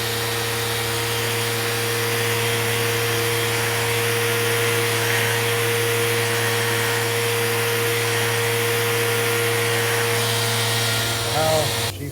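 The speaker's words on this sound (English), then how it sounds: "I'm gonna round these over with the sander real quick" Power sander rounding over wooden corners while building a router table, a steady continuous motor whine running loud and unbroken throughout at close range.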